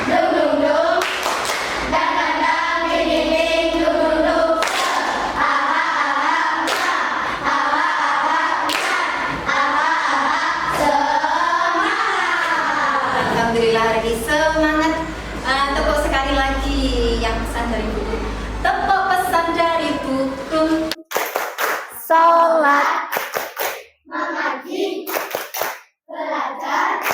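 A group of children performs a patterned spirit clap in a classroom, with sharp, evenly spaced hand claps and thumps mixed with loud chanting voices, ending in a burst of quick claps.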